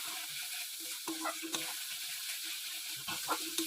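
Spice masala with turmeric sizzling and frying in a pan for a jackfruit curry, a steady close hiss with occasional scraping stirs.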